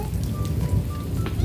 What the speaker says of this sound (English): Oh, the rain, Ellie, and the thunder